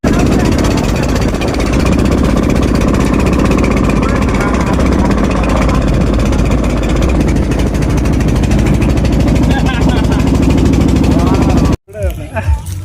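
A boat engine runs loud and steady close by, a droning rumble that holds for most of the time before abruptly cutting off near the end, with a voice talking over it.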